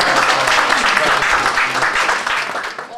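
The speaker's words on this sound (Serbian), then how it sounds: "I ja mislim da to zaslužuje neki aplauz" An audience at a book promotion in Smederevska Palanka breaks into lively applause, a burst of dense clapping that holds briefly and then begins to fade.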